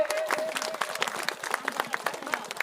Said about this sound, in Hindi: जोरदार तालियों से माननीय विधायक का स्वागत करें सब लोग